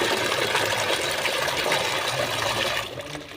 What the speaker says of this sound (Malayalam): രണ്ട് ലിറ്റർ പച്ചവെള്ളം ഒഴിച്ചു